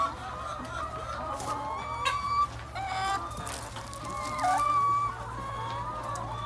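Laying hens on a small backyard egg farm cluck and chatter in a steady, close flock, with brief sharper calls rising over the continuous murmuring.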